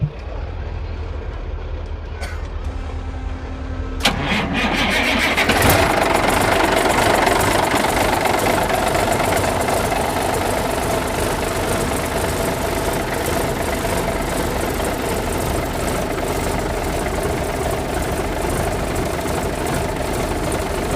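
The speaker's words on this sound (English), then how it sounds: "could we turn on the motor? Is that something we can listen to?" After a starter catch, the engine of a custom 1980 Freight truck settles into a loud, steady, rumbling idle with a knocking diesel clatter, running continuously close by amid background noise.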